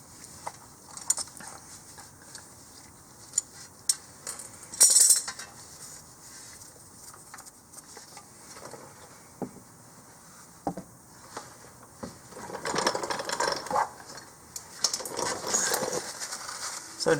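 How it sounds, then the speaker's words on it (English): Filter pliers work loose the oil filter on a 2017 or later Nissan Rogue Sport, giving scattered metallic clicks, scrapes and taps under the car that grow busier and more rattling toward the end, with no voice. "Use some filter pliers to be able to loosen the filter."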